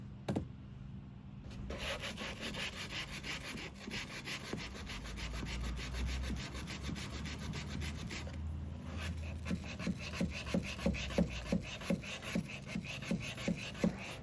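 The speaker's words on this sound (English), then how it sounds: "I can wrap the sandy disc around there and just sand there too" An oak buffet is sanded by hand with a contour sanding disc, giving close, steady scratchy rubbing that becomes rhythmic back-and-forth strokes toward the end, with no voices.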